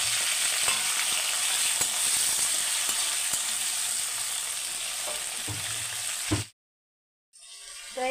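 Chopped mixed vegetables and Malabar spinach stems with black cumin seeds sizzle steadily in hot oil, a loud continuous fry with occasional stirring clicks, then a sudden drop to silence before the sizzle returns.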